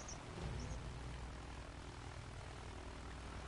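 Propeller airplane engine drone from a plane in the video game Battlefield 1, a steady continuous rumbling hum at moderate level with no voices over it.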